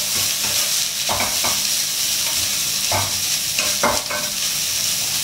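Preserved radish (chai po) stir-fried in a pan for a rice-porridge side dish with egg, giving a steady close sizzle with repeated scraping stir strokes, alone without talk.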